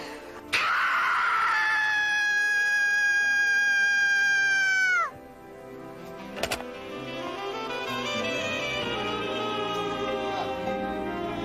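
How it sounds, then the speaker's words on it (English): A sustained high-pitched scream held for several seconds, loud and close, cutting off abruptly, followed by a short sharp noise and a quieter wavering cry. "I'll scream like this."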